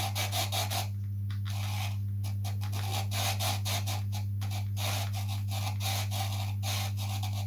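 A wooden wing rib for a Da Vinci Flyer Mk. 2 model is being sanded down with sandpaper, giving steady close rasping strokes in a repeated back-and-forth rhythm over a constant low hum.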